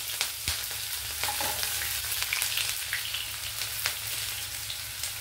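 Onion pieces fry in oil in a pan over a medium flame for a potato and raw banana fry, giving a steady soft sizzle with occasional sharper crackles and a stirring clack, no voices.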